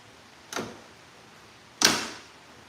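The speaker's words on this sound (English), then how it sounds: "We're gonna hopefully hear a little clip sound." A plastic badge clip on a 2024 Toyota Tacoma snaps into place, two sharp close clicks about a second apart with a quiet room around them.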